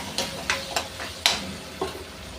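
Chilli powder goes into sautéed tomatoes in a pan for a green gram and greens dumpling curry. A steady soft sizzle runs underneath, broken by five or six sharp spoon scrapes and stirring clinks close by.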